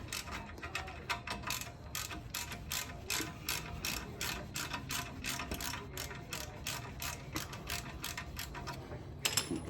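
A ratchet wrench clicks in a fast, steady run of sharp ticks while loosening a screw on the rear brake of an Audi RS5 (B9), close and fairly quiet, with no talking.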